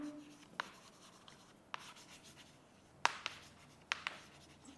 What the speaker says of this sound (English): Okay, let's write.